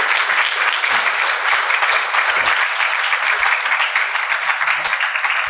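An audience at a conference bursts into sustained, dense applause, steady and fairly loud for the whole stretch.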